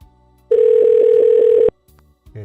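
A single ringback tone sounds on an outgoing telephone call, loud and steady for just over a second with a faint pulsing flutter, then cuts off into near silence.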